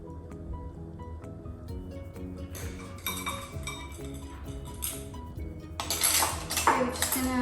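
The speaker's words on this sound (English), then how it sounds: "We're just gonna stir that up." Egg yolks with vanilla essence stirred in a bowl, with light clinks and utensil taps heard over a continuous musical background, and a brighter burst of clattering near the end.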